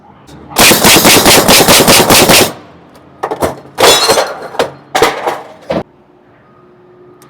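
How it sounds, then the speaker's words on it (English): A repaired pneumatic nail gun fires in a rapid burst of loud, close sharp cracks for about two seconds, then after a pause several more separate shots and short bursts ring out with clattering. "And that's how you fix nail guns."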